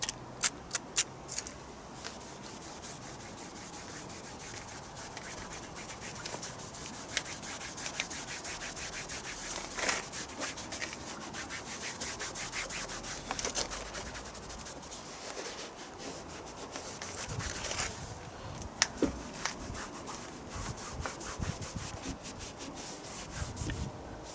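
Reflect tyre and trim restorer being rubbed onto a car tyre, a steady close scrubbing and rubbing texture with scattered sharper scuffs running throughout, no talking.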